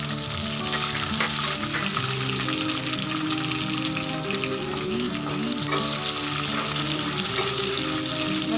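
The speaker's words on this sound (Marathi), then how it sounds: "नंतर हा कांदा चांगला फ्राय होऊया।" Green chilli and onion frying in hot oil with cumin seeds for a fenugreek and potato dish, a loud, continuous close-up sizzle that holds steady throughout.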